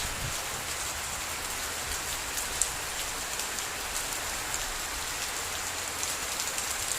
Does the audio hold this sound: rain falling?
yes